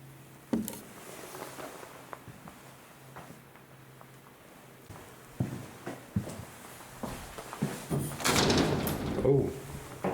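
An old door inside an abandoned church creaks and knocks, with scattered thumps and rattles, then a louder scraping burst near the end, fairly close in a quiet room.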